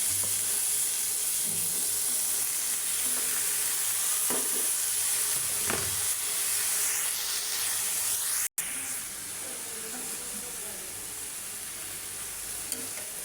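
Taro stolons fry with dried fish in a pan, giving a steady loud sizzle and hiss with faint stirring scrapes. The sound drops out for an instant partway through, then carries on.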